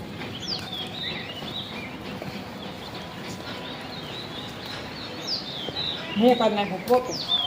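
Small birds chirp in short bright bursts, scattered and fairly faint, over a steady outdoor background with some louder calls near the end.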